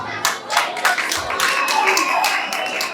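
Audience at a film launch claps in a lively burst of applause, sharp hand slaps overlapping in a steady patter close by, with some faint voices mixed in.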